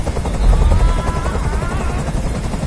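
A helicopter in the video game Detroit: Become Human makes a loud, steady rotor drone with a low thumping rumble that holds throughout, with no voices over it.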